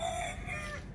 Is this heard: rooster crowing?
yes